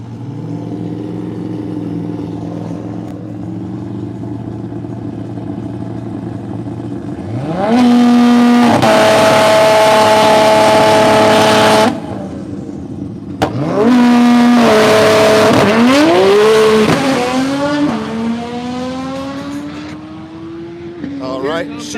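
The Gojira GTR race car makes a street racing pass at a street takeover in Tulsa. Its engine idles, then revs loud through rising gear pulls, pauses, and screams again before settling back to idle, with voices over the scene.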